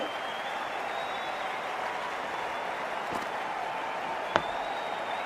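A crowd at a Test cricket match between India and England in England keeps up a steady wash of applause and murmur, with a sharp clap standing out near the end.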